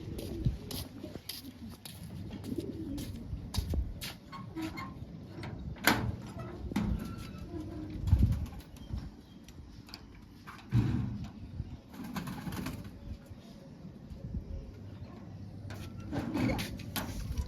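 Pigeons in a rooftop loft coo again and again in soft, low, rolling calls, joined by scattered clicks and knocks and occasional faint voices in the background.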